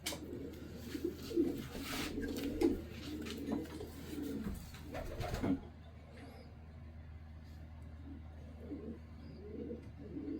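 Racing pigeons coo in soft, repeated rounds close by, with a rustling clatter early on before the cooing continues alone.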